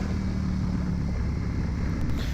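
Ducati Panigale V4S motorcycle engine idling close by, a steady low rumbling drone with a faint tonal hum that holds even and loud throughout, no talk over it.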